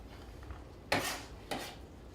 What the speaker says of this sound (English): So we're gonna add the onions first.